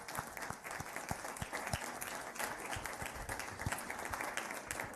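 A room full of people gives a round of applause for student ambassadors at an Atlanta event, dense steady clapping that carries on evenly for several seconds with no talk over it.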